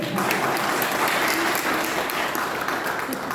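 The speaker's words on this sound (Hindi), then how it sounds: "एक बार तालियां हो जाए" Steady applause from an audience at a farewell party, a thick continuous roar of many clapping hands at an even, fairly loud level from start to finish, with no voices standing out.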